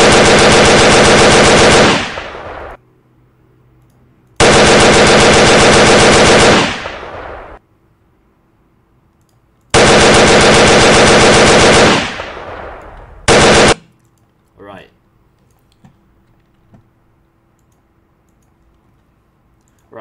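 Rapid machine-gun burst fire from a soldier character in an iClone 8 gunfight animation rattles out in three long loud bursts and one short one, separated by silence and followed by a few faint clicks.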